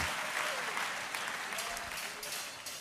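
A church congregation applauds in a steady, dense wash of clapping that fills the room and tapers slightly toward the end, with faint voices underneath.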